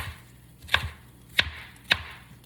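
A knife chops through green pepper and onions on a cutting board in three sharp, evenly spaced strokes in an otherwise quiet kitchen.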